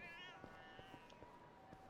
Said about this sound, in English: Wait, I heard that. That's a cat.